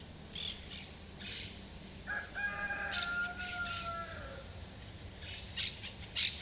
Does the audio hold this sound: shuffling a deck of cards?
no